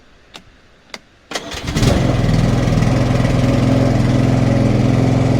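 A Mountfield R27M ride-on petrol lawnmower is started up close: a couple of clicks, a brief crank, then the engine catches and settles into a loud, steady idle.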